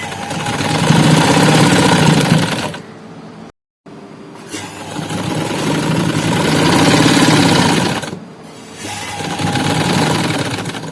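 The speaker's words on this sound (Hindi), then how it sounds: "ये इस तरह से सारी किनारे पे सिलाई लगेगी, पूरी इधर से इस साइड तक लगा के सिलाई" An electric sewing machine runs stitching along a fabric edge with a steady, dense motor whir in several long runs, stopping briefly between them, including one short dead-silent gap.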